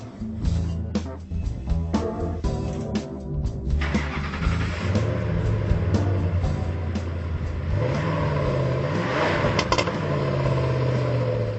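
A truck engine roars and revs hard through a throaty Gibson Performance aftermarket exhaust, rising and falling in pitch, loud and continuous with no talking.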